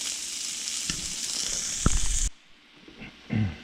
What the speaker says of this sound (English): we've got the kielbasa in the pan. Got it stirred up